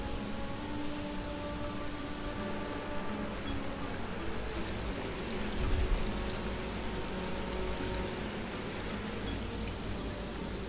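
Flowing water in the video game Adam's Venture makes a steady pouring rush that stays fairly even throughout. A brief low thump comes near the middle, and no one speaks.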